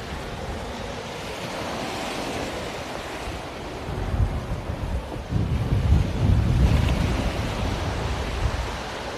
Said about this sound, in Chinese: 下面去看又不一样，看海浪。